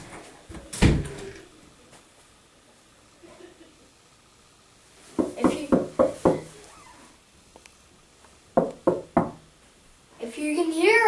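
Inside a quiet room, a sharp single knock on a door comes first, then a cluster of several rapid knocks, and another short series later, with low voices murmuring faintly between them.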